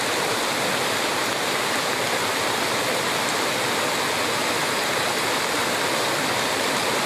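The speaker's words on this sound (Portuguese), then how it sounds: "Aqui embaixo está a corredeira, que é feita, formada, quero dizer, pela cachoeira" Rapids rushing below the Antônio Monteiro waterfall near Pocinhos do Rio, a steady broadband roar of churning water close by that holds constant throughout with no voices.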